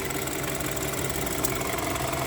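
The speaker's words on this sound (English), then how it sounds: "there is less sound from the engine" Steady idle of a 2012 BMW 320i with the N20 engine after a high-pressure fuel pump replacement, a continuous close engine hum with even low rumble and faint ticking, no talk.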